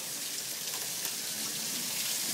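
Steady rain falling outdoors, an even, continuous patter and hiss with no breaks, moderately quiet and heard on its own.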